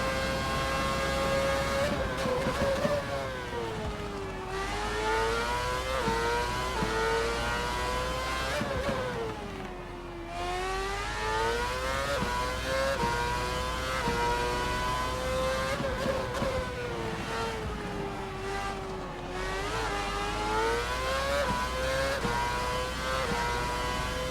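A Formula-style racing car in a video game on a fast lap of the Azerbaijan circuit roars loud and close, its engine pitch climbing through gears, dropping on downshifts, then rising again in repeated cycles.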